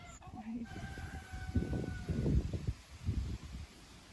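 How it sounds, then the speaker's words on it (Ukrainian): A silkie hen clucks in short bursts close by, with other birds and some background chatter mixed in. "шовкова курочка"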